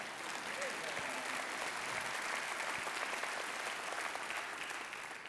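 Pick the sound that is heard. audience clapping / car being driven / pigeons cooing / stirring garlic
audience clapping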